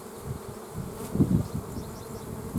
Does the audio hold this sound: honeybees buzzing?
yes